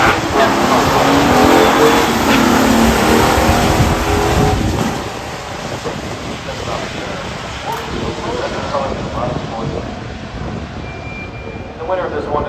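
Oldsmobile muscle car drag racing at a Mid Michigan Motorplex pure stock event, a loud roaring engine that sweeps past and fades into a lower rumble, with an announcer talking over it.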